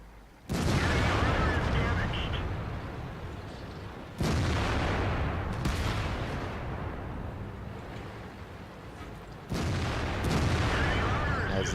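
Tank guns firing in World of Tanks, including a Waffenträger Auf E100 tank destroyer and an IS-8 heavy tank: three loud booming cannon shots with long rumbling decays, spaced several seconds apart, with a voice talking.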